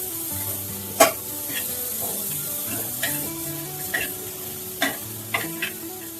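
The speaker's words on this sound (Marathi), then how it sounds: "खोबरं टाकून घेऊया, खोबरं भाजायचं." Grated coconut dry roasting in a pan for a spicy mutton curry, with soft steady sizzle and several sharp scrapes of a spatula stirring against the metal, close and alone with background music.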